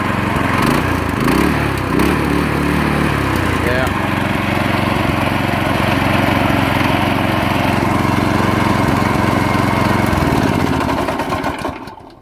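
Yerf Dog 3020 go kart engine with the governor still fitted, running close and loud at a steady, even pitch, with rumbling low-end changes in the first few seconds before it settles and fades slightly at the end.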